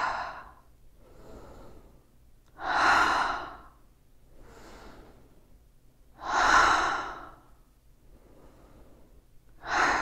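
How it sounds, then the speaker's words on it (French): Slow guided breathing during a daily energy-medicine routine: three strong, full breaths, each drawn in through the nose and let out through the mouth, close and clear at a calm, even pace, with softer breaths between them and no talking. "Inspire par le nez, expire par la bouche."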